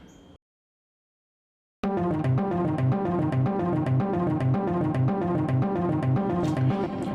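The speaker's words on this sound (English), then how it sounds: "this is what string fling sounds like" A cinematic orchestral string library patch called String Fling plays a dense, rhythmic ostinato of repeated short string figures, loud and steady after a brief pause, with no talking.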